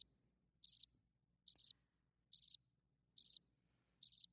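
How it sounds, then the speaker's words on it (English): Cricket chirping played as a sound effect on a movie recap podcast: five evenly spaced, bright trilled bursts, each under a quarter second, sounding alone against silence. "we just need to hit the crickets"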